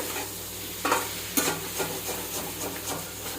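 Fish sizzles steadily in hot oil, broken by a couple of sharp clatters from a utensil stirring in the pan.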